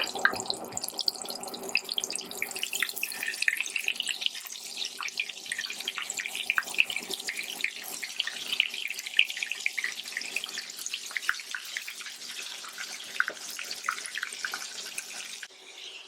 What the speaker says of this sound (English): So I wash and condition my hair.